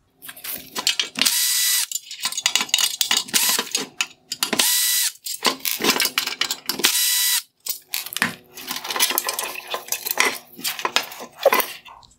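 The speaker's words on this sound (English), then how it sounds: "So I'm going to go ahead and remove three T15 screws here along the back to release the two pieces." Three T15 screws being ratcheted out of clamshelled LED heat sinks in a Jaguar XF / F-Pace headlight, with bursts of sharp close ratchet clicking alternating with metallic clinks and rattling parts.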